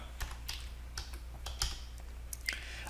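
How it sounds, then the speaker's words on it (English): A command being typed on a computer keyboard, with a run of separate clicking keystrokes at an uneven pace, close and fairly quiet, with no talk. "we're going to type crypto"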